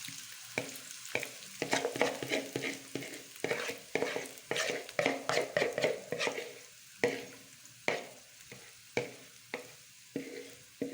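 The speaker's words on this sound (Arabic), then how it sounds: "نرمو لها البصل تاعنا اللي كنا قطعناه مع الثوم" Chopped onion and garlic sizzle in hot oil, with repeated stirring scrapes in an uneven rhythm close by, steady frying hiss beneath, no talking.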